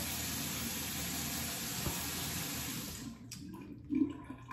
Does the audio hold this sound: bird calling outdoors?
no